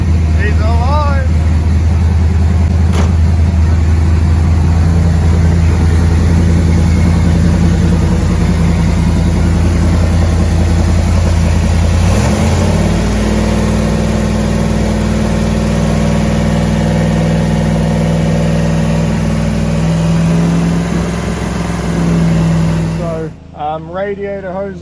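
A fully rebuilt Holden 304 V8 with the EFI deleted and a big camshaft runs on its first start-up. It idles loud and close with a lumpy, steady rumble, then cuts off abruptly near the end, with voices now and then.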